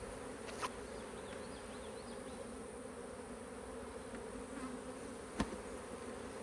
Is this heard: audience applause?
no